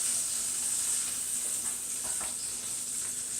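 Food sizzles in a hot pan before spinach goes in, a steady close hiss with bright crackle and a few soft scraping stirs, no talking.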